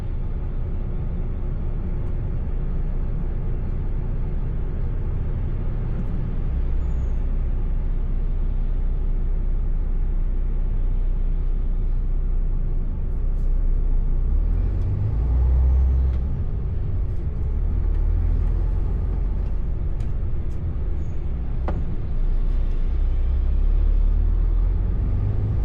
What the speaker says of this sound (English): I'll let some of the cars past.